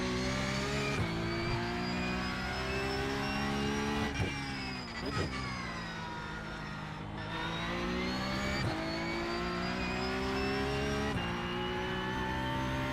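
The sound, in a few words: Porsche Cup race car engine revving, from a racing video game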